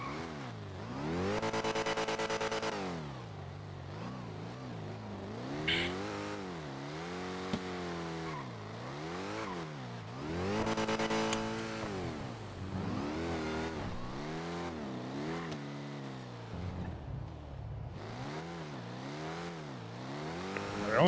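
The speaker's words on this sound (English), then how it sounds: "The only thing I really don't like about this car is how loud it is." A loud supercharged car engine in the NoPixel video game revs up and down repeatedly, with rising and falling whine through gear changes and occasional tire squeal, continuous throughout without talk.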